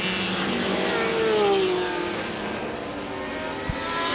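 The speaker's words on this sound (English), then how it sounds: "I think David Clark's making the most noise in his BRM P57" Historic racing cars at the Goodwood Revival 2014, a BRM P57 and a 12-cylinder Ferrari, make a loud, steady engine roar that rises briefly in pitch as a car passes, with no talk over it.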